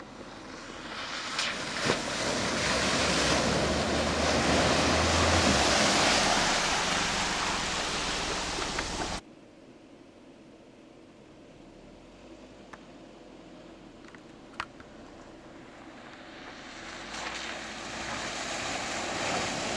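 A car plows through a deep puddle on a forest road, sending a loud, sustained rush of splashing water for several seconds. The splashing cuts off abruptly into quieter engine rumble, with a few knocks, and the water noise swells again near the end.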